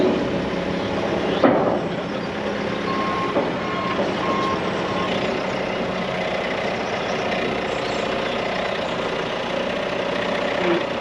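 A small telehandler with extended pallet forks idles and works while loading into a trailer, giving a steady low engine rumble with a few faint beeps and one sharp metallic knock early on.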